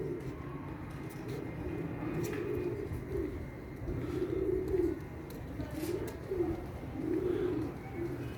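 Pigeons, breeding pairs kept on a new rooftop setup, coo repeatedly in soft, rolling bursts, close by, over a low steady background rumble.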